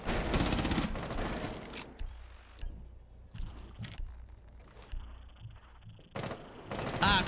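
Rapid bursts of gunfire from a Valorant esports match, loud and dense at the start and end with scattered shots and game effects between, no voices over it.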